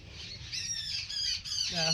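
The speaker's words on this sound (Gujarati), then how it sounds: "અરે તો ચકલો બોલે છે" Sparrow chirping in a rural field setting: a steady run of high, bright squawking calls close by, with a voice breaking in near the end.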